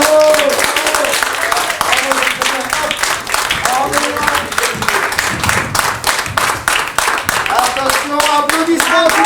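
Audience applause during a staged scene from the Marius card-game play, brisk close-up clapping from a small group, continuous and loud, with voices breaking through now and then.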